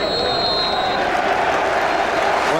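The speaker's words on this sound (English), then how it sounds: "both sets of supporters can applaud mightily" Football supporters in a stadium applaud with a broad, loud, dense roar of clapping and crowd noise that continues throughout, with faint commentary underneath.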